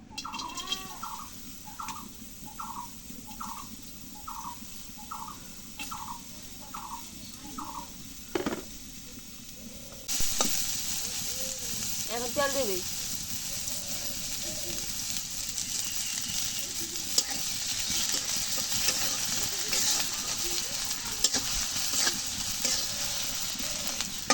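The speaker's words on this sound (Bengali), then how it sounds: "কড়াই পেঁয়াজ দিয়ে দিই" Onions fry in oil in a wok. A loud, dense sizzle with stirring scrapes suddenly starts partway through, after an opening of quieter background with rhythmic bird or fowl calls.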